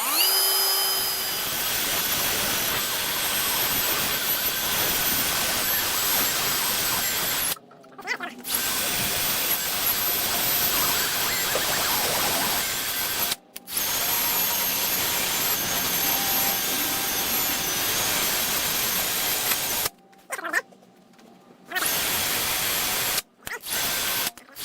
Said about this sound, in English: I'm going to take a little wire wheel to the horseshoe and see how that does